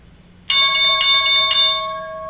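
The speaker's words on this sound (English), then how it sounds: "the stock market bell will be sounding off in 10 seconds" The stock market opening bell rings in a quick run of about five loud, bright strikes, then a ringing tone decays slowly, with no talk over it.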